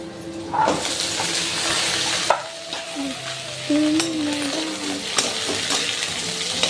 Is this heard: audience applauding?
no